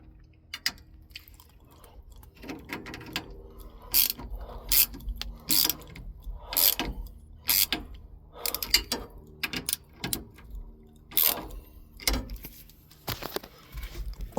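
A ratchet clicks in short, close bursts while T bolts on a 1976 Ford F100 upper steering column are tightened, uneven strokes separated by brief pauses, with no talking.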